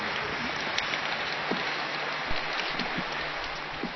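Rain falls steadily on an outdoor board, a dense, even hiss of drops with occasional louder individual splats close by, no voices present.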